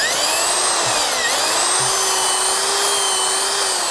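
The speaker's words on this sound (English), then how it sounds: "Now the important thing with drilling is to make very slight up and down movement while you do the drilling." A powered auger bores into soil, held straight in a rigid tripod, to install a Sentek Drill & Drop soil moisture probe; a loud, steady, high motor whine runs unbroken throughout with slight wavering in pitch.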